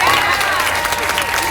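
An audience at a talk on entrepreneurship and fathers being present in communities breaks into loud, dense applause and cheering, a close burst of clapping that fills the whole moment.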